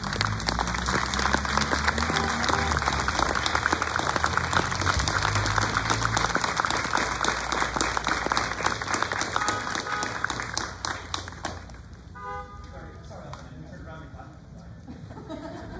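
Concert audience and band members applauding veterans, loud sustained clapping from a large crowd that fades out near the end, with voices murmuring as it dies down.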